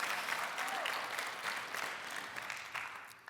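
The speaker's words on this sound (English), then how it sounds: "Yeah, you can clap for that." A church congregation applauds in a sustained round of clapping, moderately loud and fading gradually toward the end.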